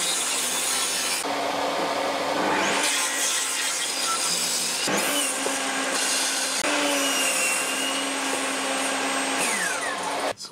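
A saw rasps steadily lengthwise through a wooden drill-stand holder in long continuous strokes, loud and close, with brief pauses and shifts in pitch as the cut progresses.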